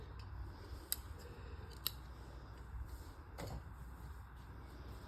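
Scissors snip through cloth while a pant plazo is cut, with a few sharp crisp clicks standing out against a low steady room hum and no talking.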